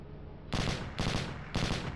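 Gunfire in the Hidden & Dangerous Deluxe video game: three short bursts of rapid shots in quick succession, loud and close over a low background hum.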